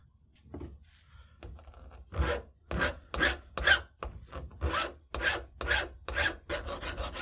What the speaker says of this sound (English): Filing sideways like this ensures that the filed surface stays square to the sides of the gate.